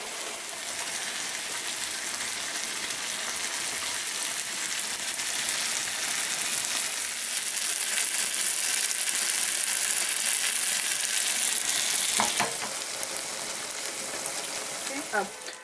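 Aubergines sizzle and fry steadily in thick masala, with a loud continuous crackle that carries on throughout, followed by a few scraping clinks near the end.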